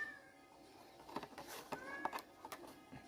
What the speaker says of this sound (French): je vais ouvrir au chat qui hurle derrière la porte comme d'habitude